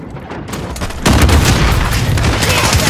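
Precision airstrike in Call of Duty Warzone on Xbox One, a deep, loud booming barrage that swells after a second into sustained rumbling explosions with crackling impacts, heavy and continuous.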